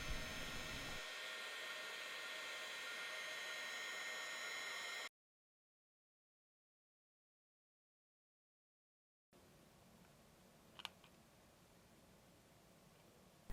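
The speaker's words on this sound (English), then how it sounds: "with the heat gun, it's slowly darkening the impressions that I had" A heat gun blows over ink on cardstock as a steady, close airy roar lasting several seconds. The recording then drops to silence, and a quieter hiss with one short tap follows.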